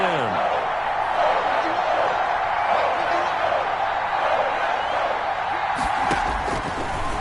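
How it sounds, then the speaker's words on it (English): A football stadium crowd roars in a dense, continuous wash of cheering and shouting, loud and sustained, with a sharp burst near the end. "Crowd getting in it a bit already."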